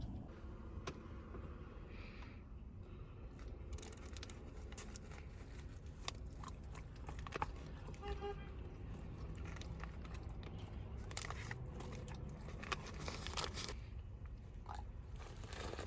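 A dog eats an unseasoned beef patty close up, with rapid crunching bites and wet chewing in quick bursts.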